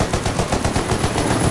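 Rapid automatic rifle fire in the military shooter Squad, a dense, loud, continuous stream of shots with no pauses, close and alone without talk.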